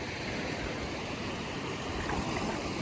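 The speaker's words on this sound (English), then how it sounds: "The tide's coming in here." Incoming tide rushes over a New England beach, a broad, steady wash of surging water and surf, close and loud, with no voices over it.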